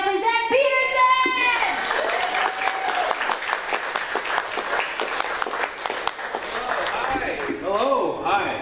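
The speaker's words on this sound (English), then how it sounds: "Let's get clapping right now for Zach Peterson." Audience applause for a comedian at a comedy show: a brief voice at the start, then dense clapping and some cheering that builds and holds before tapering off near the end.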